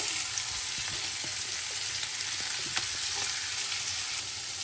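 Onions fry in a kadai with a continuous close sizzle, and occasional soft stirring taps break through the steady hiss.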